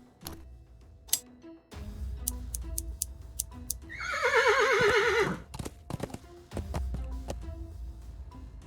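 A cartoon horse in a point-and-click adventure game lets out a loud, wavering whinny as hair is plucked from its tail, with light hoof clops and ticking game effects before and after.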